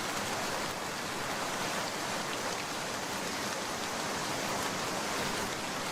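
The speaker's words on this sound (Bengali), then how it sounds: "বৃষ্টি তো অনেক হইতাছে, রাস্তা খুব পিচ্ছিল।" Heavy rain in a cartoon pours down in a steady, dense, even hiss that fills the whole clip without a break, with no voices over it.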